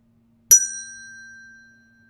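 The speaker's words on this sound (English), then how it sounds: "We're going to practice listening to the bell 1 more time." A single mindfulness bell is struck once, giving a clear bright ring that hangs and slowly fades to silence over more than a second in a quiet room.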